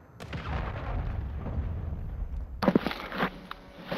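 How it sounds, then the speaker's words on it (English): Cruise missile strike explosions in a shooter video game: a sustained, rumbling barrage of booms with a sharper, louder blast burst partway through, fairly close and dense. "Friendly cruise missile deployed."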